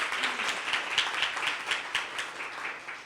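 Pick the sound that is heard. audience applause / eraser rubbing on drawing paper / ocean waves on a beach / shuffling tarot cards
audience applause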